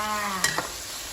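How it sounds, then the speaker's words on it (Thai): Salted pork being stir-fried in oil in a pan, a constant sizzle and hiss with a couple of quick scraping stirs, close up and with no talk. "ไอ้ทีนี้เรามาคั่วน้ำมัน ก็เป็นหมูคั่วเกลือเลยจ้า"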